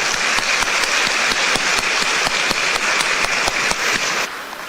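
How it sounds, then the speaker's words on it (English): An audience applauds at a Taiwan–US chamber of commerce gathering, loud, steady clapping from a full room that holds evenly for several seconds before easing slightly at the end. "Let's give him a round of applause"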